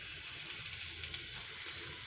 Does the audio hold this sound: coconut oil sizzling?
yes